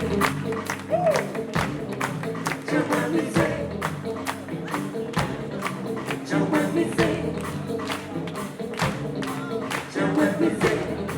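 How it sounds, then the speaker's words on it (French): A crowd applauds with dense, sustained clapping for several seconds, fairly close, with some cheering mixed in. "merci de l'applaudir très fort"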